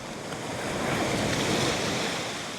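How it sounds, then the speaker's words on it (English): Ocean surf breaks steadily on a Dominican Republic resort shoreline, a continuous broadband wash of waves that swells slightly in the middle, with wind and no voices. "be quiet for now for you to enjoy the waves."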